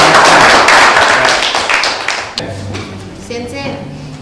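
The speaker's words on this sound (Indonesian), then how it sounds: "Kita kasih tepuk tangan." Students in a classroom clap their hands together in a loud, close burst that lasts about two seconds and then fades as someone starts talking.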